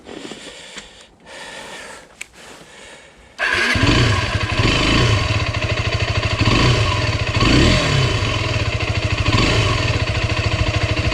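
A 125 cc motorcycle on a camping trip through Scotland starts up after a few quiet seconds, then a loud, close engine drones and pulses steadily as it rides, with rushing wind over the microphone.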